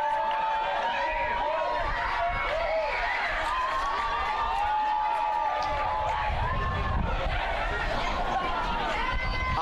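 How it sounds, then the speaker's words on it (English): Spectators at a 2018 Tampa men's soccer match against Florida Southern roar and cheer in a sustained, dense swell of noise, with a commentator talking over the crowd throughout. "The crowd going wild here."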